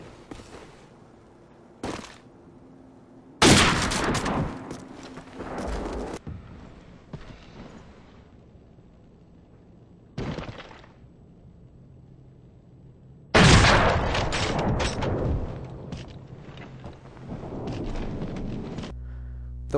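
Gunfire in a first-person shooter video game during a sniper no-scope shot: several sharp loud bursts, the heaviest around the middle and near the end, with quieter gaps and game ambience between.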